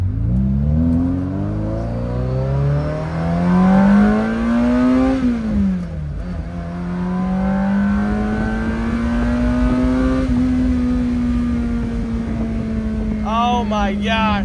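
A manual Ferrari 348 engine drones close and loud while driving, its pitch climbing steadily as it accelerates, dipping briefly at a shift, then pulling up again, with a faint voice near the end.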